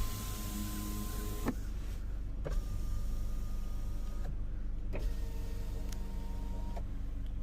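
Car power windows run up and down via the key fob's auto open/close feature, a steady motor whir with sharp clunks as each window stops and restarts, close by with no talking.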